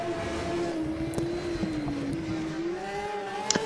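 Opel Kadett GTE Group H special with a wide body kit, racing at the Tauplizalm hillclimb in Austria. A steady engine drone rises and dips in pitch at moderate distance, with a couple of brief clicks.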